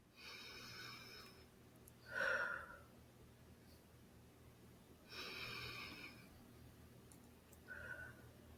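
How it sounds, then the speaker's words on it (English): Slow nasal breathing through a single nostril, the left, during a guided breathing exercise: three soft, airy breaths spaced a few seconds apart, close and quiet, with no talking. "you're going to close off your right nostril. I know, different. And you're going to breathe just through your left for about 30 seconds"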